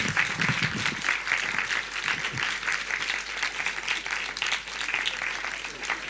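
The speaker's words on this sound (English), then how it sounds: "Big round of applause." Applause from an audience at a politics event welcoming Spain's second Deputy Prime Minister and Labour Minister: dense, steady clapping that fills the room throughout, with no voice over it.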